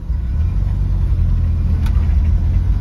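A 1979 Ford Pinto Cruiser Wagon with a manual clutch on the move, its engine a loud, steady low drone with a deep rumble from inside the car, holding even throughout without voices.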